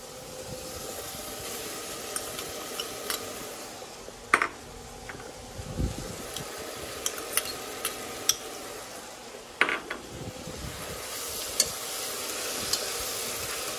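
A utensil stirring mushrooms in a pot of tom yum soup, with a low sizzle and scattered clinks and scrapes against the pot, close and quiet.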